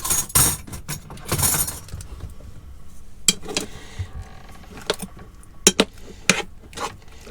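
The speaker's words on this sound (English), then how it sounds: "I'm going to mix all that up." Curry ingredients stirred together in a pot, with irregular clinks and scraping clatters of a utensil against the metal, loud at the start and again in sharp bursts near the end.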